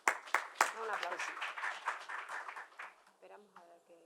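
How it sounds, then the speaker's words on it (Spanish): Applause from an audience at a drug policy forum, a burst of sharp claps that settles into steady, fairly close clapping and fades out over a few seconds. "Un aplauso."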